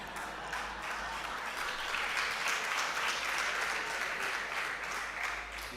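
An audience at a democracy discussion event claps steadily as a continuous, moderately distant patter of applause, with no break over the whole stretch.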